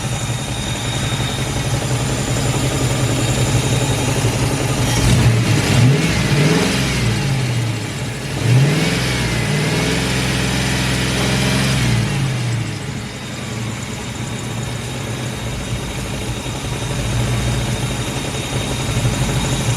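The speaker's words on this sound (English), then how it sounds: "let's rev it up a little bit" Car with a hole in its transmission, its mid-sized engine revved up in a couple of rising and falling surges before settling back to a steady idle, close and loud throughout.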